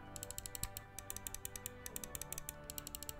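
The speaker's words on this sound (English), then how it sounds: "Yeah, a little bit more crisp," Crisp, poppy button clicks from a Lamzu Atlantis Mini gaming mouse, pressed in quick close-up bursts of regular clicks with short pauses between runs, and no voices.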